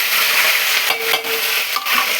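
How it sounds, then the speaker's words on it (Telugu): Curry leaves, onion and green chillies hit hot tempering oil that already holds cumin, mustard seeds and chana dal, making a short burst of loud, crackling sizzle with a few quick stirring knocks. "ఇప్పుడు కరివేపాకు, ఉల్లిపాయ, పచ్చిమిర్చి వేసుకుందాం"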